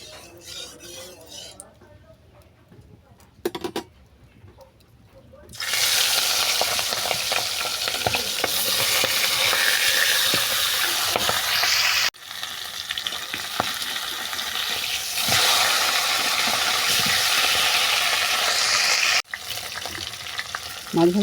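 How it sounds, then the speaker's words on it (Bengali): Rohu fish fries in hot oil in a wok with a loud, dense sizzle that starts abruptly and holds for about fifteen seconds, briefly interrupted, with occasional clinks of a utensil and a few quiet moments beforehand. "তেলটা গরম হয়ে গেলে মাছটা আমি ভেজে নেব।"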